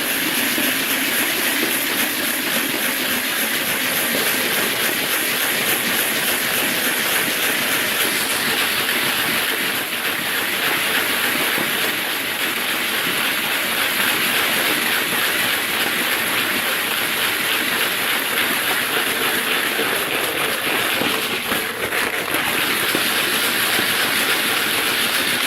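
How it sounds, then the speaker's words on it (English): Loud, continuous rattling of 7/8 oz Lee lead slugs shaken in a powder coating container, a dense, steady clatter that goes on without a pause and with no voices. "some more powder in there and do a little more shaking"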